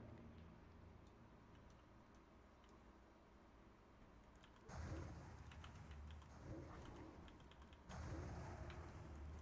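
Fast, faint keyboard clicking from a player spamming keys in World of Warcraft, a steady stream of light taps that grows a little louder partway through, with no talk over it.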